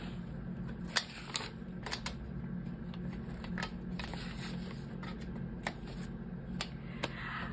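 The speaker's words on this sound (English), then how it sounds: "I'm gonna unstuff my full medical envelope for right now" Cash bills are pulled out of a budget envelope and handled, giving soft papery rustles and flicks with a few sharper snaps over a quiet, steady room hum.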